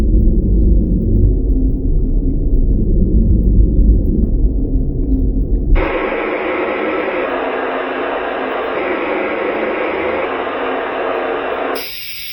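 Speaker test on Research Technologies Soundmaster speakers with an upgraded crossover: a loud, low rumbling woofer-range tone, then a switch to a brighter midrange band, then a brief jump to a high tweeter hiss, each section steady with no talking.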